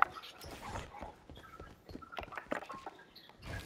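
A pet dog whimpering softly nearby, faint thin whines mixed with light scuffling and pattering, no talking.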